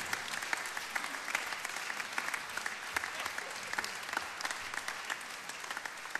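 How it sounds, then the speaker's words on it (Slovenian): An audience at a regional sports-awards ceremony in Mozirje applauds, a steady, dense clapping that carries evenly from start to end. "Še enkrat močan aplavz za Tanjo Žagar in odlične pevke in pevce z osnovne"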